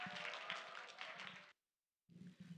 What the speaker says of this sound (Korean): 큰 박수로 모시겠습니다